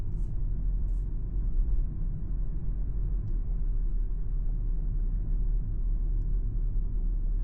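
A car on public roads near Rungis picks up speed again, a steady low engine rumble heard from inside the cabin, moderate and continuous with no talking.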